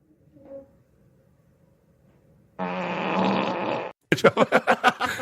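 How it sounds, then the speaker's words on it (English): Alexa smart speaker playing a crude fart sound effect, a sustained loud burst heard on its own, followed by a quick series of rhythmic popping bursts. "That wasn't even a polite fart."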